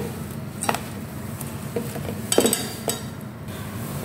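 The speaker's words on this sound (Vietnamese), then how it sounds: "Mình sẽ trộn đều lên nhé." Vegetarian banana blossom salad with carrot and fish-sauce dressing being tossed and mixed in a bowl, with a few clinks of utensils against the dish and soft rustling of the shredded vegetables, close and alone.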